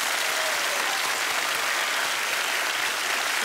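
Dense, steady applause from a studio audience at a Swedish magic show, close and loud, holding evenly without a break from start to finish.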